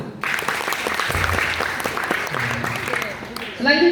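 A class of students claps at a training session, a short dense round of applause heard close by, with a voice speaking over part of it.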